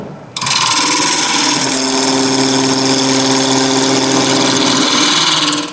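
A wood lathe spins an uneven, wobbling workpiece with a loud, continuous whirring hum and a steady motor drone, starting suddenly and running without pause.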